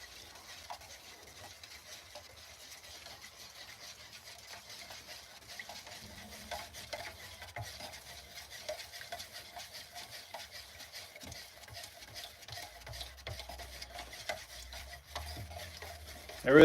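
A can of dark Jacobean wood stain being stirred, a quiet, steady swishing and faint scraping that builds slightly toward the end, ending in a sharp knock.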